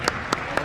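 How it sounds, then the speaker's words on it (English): A committee room audience applauds briefly for a member's newborn daughter, a dense burst of clapping with a few sharper individual claps standing out. "One time you can clap."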